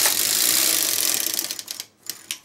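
Knitting machine carriage sliding across a row of needles, a loud clattering rattle that fades into a few separate clicks near the end.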